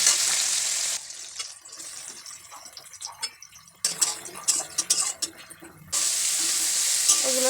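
Eggplant frying in a pan in a home kitchen, a steady sizzle broken by stirring and clinks of a utensil against the pan, with no talking.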